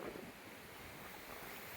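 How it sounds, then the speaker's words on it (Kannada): Strong wind buffeting a microphone outdoors, where birds fly near a building, giving a constant low rumbling roar with no talk. "ಈಗ ಇಲ್ಲಿ ನನ್ನ ವಾಯ್ಸ್ ಕೂಡ ನಿಮಗೆ ಸರಿಯಾಗಿ ಕೇಳಿಸದೇ ಇರ್ಬೋದು. ಈ ಗಾಳಿದು ಪ್ರಭಾವ ಹಿಂಗಿದೆ."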